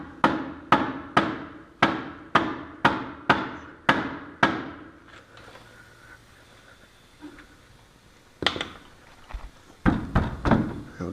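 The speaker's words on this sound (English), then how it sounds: "Now I take a rubber hammer or something similar and just tap the A-arm and knock it out of the bottom of the hub." A rubber hammer knocks a RZR side-by-side's front A-arm out of the bottom of the hub: nine sharp, evenly spaced blows ring out close by, then a pause with faint shuffling, followed by a few more scattered heavy knocks.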